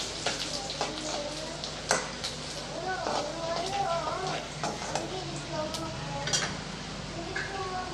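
Garlic cloves cut lengthwise sautéing in a pan for a ladies finger (okra) gravy, with a steady sizzle, scattered stirring scrapes and utensil clinks, and a voice talking over it.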